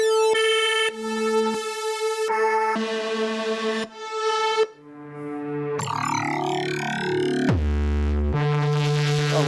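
Sample playback on an Arturia MicroFreak synthesizer, cycling through a series of sustained pitched instrument tones, each a few seconds long, from bright harmonic notes to a swirling textured pad and a low buzzy tone, played loud and close.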